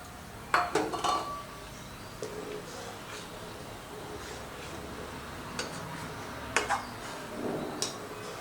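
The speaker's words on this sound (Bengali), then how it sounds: "চিনিটা দিয়ে একটু নাড়িয়ে নিয়েছি।" A spoon clinks against a pot while sugar is stirred into simmering milk for a badam shake, with a few sharp metallic taps early on and sparse clinks later over a low background.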